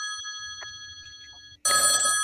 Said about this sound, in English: somebody's ringing